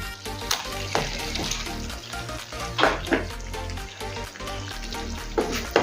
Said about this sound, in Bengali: এখন দেবো আগে থেকে ভেজে রাখা পনিরের পিসগুলো।